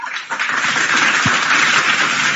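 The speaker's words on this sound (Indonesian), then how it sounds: "Tepuk tangan dulu buat abang kita ini." An audience at a religious debate breaks into applause, a dense, loud wash of clapping that swells quickly and stays sustained.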